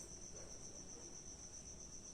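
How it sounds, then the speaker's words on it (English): Crickets chirp in a steady, continuous high trill that runs without a break, alone over a faint low background hum. "cricket is the name of a small insect which makes a kind of sound"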